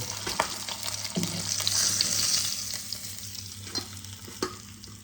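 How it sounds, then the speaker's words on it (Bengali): Potatoes fry in hot oil for a Bengali cabbage and fish-head dish, giving a steady close sizzle with occasional stirring scrapes and clinks throughout. "এবার আমি আলুগুলোকে ভেজে নেব"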